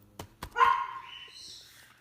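A dog gives a single sharp bark, preceded by a couple of faint knocks, with a quieter whine trailing off afterward.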